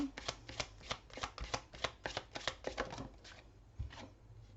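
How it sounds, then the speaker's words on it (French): Tarot cards being shuffled, a quick run of crisp riffling snaps and slaps in an irregular rhythm, close and fairly quiet, with no talking. "Alors, je vais tirer toutes les cartes."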